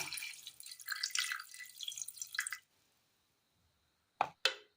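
Water splashes and pours into a pot for a couple of seconds, then silence, followed by two brief clanks.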